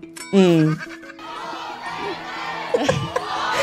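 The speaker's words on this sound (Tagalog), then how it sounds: "Sigawan ng mga tao, mga kababayan." A crowd at a political gathering shouting and cheering, a loud drawn-out voice at the start giving way to a sustained roar of many people, with further shouts rising near the end.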